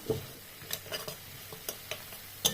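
Spice paste with turmeric frying in a little mustard oil, a quiet steady sizzle broken by several short scraping stirs of the spoon against the pan, close and fairly soft, with no talking.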